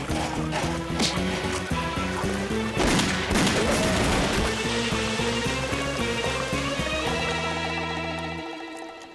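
Rapid cartoon gunfire in an animated Lucky Luke western, a quick volley of shots fired over loud orchestral music that continues throughout.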